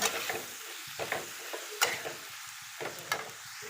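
Onion and tomato fry in hot oil for a paneer curry, a continuous close sizzle broken by repeated scraping stirs of a spoon against the pan.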